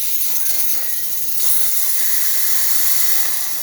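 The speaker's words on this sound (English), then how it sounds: "There you see we have a nice strong steam." Strong, steady steam hiss from the steam wand of a freshly serviced Breville XL espresso machine, loud and close, swelling slightly midway and continuing alone without talk.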